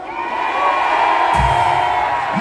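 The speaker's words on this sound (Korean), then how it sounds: "여러분들께서 함성을 질러주십시오" Large outdoor political rally crowd in Seoul shouting together in response to a speaker's call, a loud massed roar that swells mid-clip into a burst of deep bellowed shouts.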